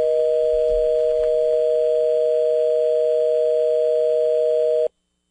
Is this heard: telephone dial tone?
yes